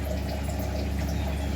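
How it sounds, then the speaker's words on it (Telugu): Water pours in a steady rush from a glass into a pan of gongura and bachali leafy vegetable curry, a constant, close splashing flow with no voices. "1 అర గ్లాసు వాటర్ యాడ్ చేసుకుందాము."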